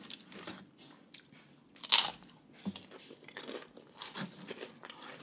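Crunchy homemade poke nachos are bitten and chewed up close, with a sharp crunch followed by scattered softer crunching and chewing sounds.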